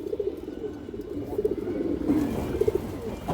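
Several old homing pigeons of fancy breeds such as army and khaki coo in repeated low rolling phrases, close and fairly loud, with no talking.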